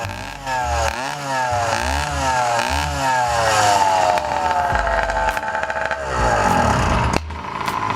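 A loud, raspy 80cc two-stroke motorized bicycle engine revs up and down in repeated rising and falling sweeps, running close and continuously throughout.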